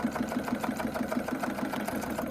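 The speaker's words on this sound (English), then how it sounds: "I think I'm going to do a stitch all the way along that piece of satin ribbon there." A sewing machine stitches a line along a piece of satin ribbon on a handmade Christmas card, running in a steady rapid mechanical rhythm, close and moderately quiet, with no voices.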